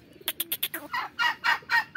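A young pet bird calls in a quick series of about nine short, sharp notes, the last few longer and fuller, close by with no talking.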